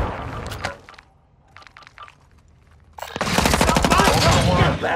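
Gunfire in a shooter video game, with a few sharp shots and quiet clicks, a near-silent gap, then a loud, sustained burst of rapid automatic fire filling the last two seconds.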